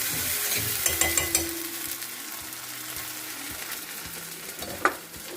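Ginger garlic paste frying in a pan with onion, a steady sizzle with stirring scrapes and a few clinks, one sharper knock near the end.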